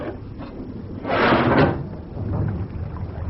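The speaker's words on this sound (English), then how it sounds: "Can we risk opening the watertight door?" Radio drama sound effect of a ship's watertight door being opened: a heavy metallic clunk and grinding swell in the middle, then a softer rumble trailing off, close and with no speech.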